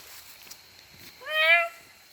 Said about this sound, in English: They like that cat sound.